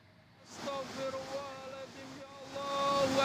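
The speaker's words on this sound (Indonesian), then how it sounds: "Banjir bandang menerjang desa Wangandoso, Kecamatan Bojong, Pekalongan." A flash flood rushes through Wangandoso village in Bojong, Pekalongan, Central Java, as a loud, steady roar of churning water that grows stronger, with faint raised voices mixed in.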